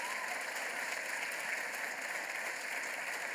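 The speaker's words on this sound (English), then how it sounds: "Let's give a round of applause to our local officials." A crowd at the Micron facility groundbreaking applauds local officials, a steady, fairly distant wash of clapping that continues evenly throughout.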